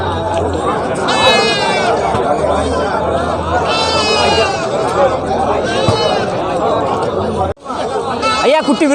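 Goats bleat repeatedly at a goat market in Narikkalpatti, several loud, wavering calls rising over steady crowd chatter and haggling voices close by.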